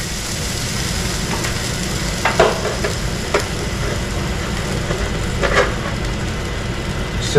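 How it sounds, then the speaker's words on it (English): Steak sizzling in a hot pan for meal prep, a steady broadband hiss and crackle running throughout with a few brief clinks and scrapes along the way. "Hear the sizzle."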